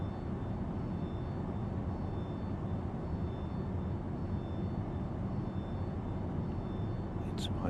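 A simulated aircraft engine starting up in a flight simulator game, a dense low droning rumble holding steady throughout, with a brief sharper noise near the end.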